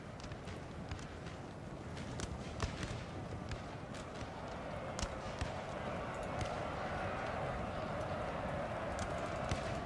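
Cavalry horses in Napoleon: Total War charge across a battlefield, a dense continuous rumble of hooves and battle clatter with sharp scattered impacts, steady and loud throughout, under faint talk.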